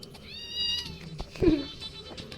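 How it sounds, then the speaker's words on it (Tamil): A kitten gives a drawn-out meow followed by a shorter, louder one, close by, with a faint electronic tone and some background noise underneath. "பூனைக்குட்டி எங்க காணும்?"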